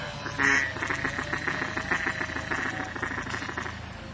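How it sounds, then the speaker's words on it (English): Mallard ducks quack repeatedly in a busy, overlapping chorus nearby, one louder call standing out early. "More mallards now."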